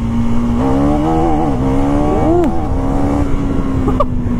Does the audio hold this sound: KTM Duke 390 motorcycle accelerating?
yes